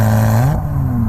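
Lotus Evora 400 engine revving hard on a road, a loud, continuous rising drone whose pitch climbs steadily before settling into a sustained howl, close and dominant throughout.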